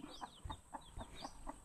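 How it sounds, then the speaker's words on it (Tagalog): Chickens on a farm plot where squash and bottle gourd are grown, clucking in a loose run of short, faint calls about every quarter second, with soft rustling and a quiet background. "Dito na naman yung mga manok."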